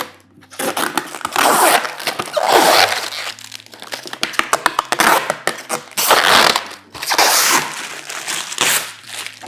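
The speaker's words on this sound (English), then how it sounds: "We're going to peel off all these pieces here as we go." Backing paper is peeled off adhesive pieces during assembly of a Modix Big 40 3D printer, heard as loud, close crinkling and tearing bursts that come in several long pulls with brief pauses between them.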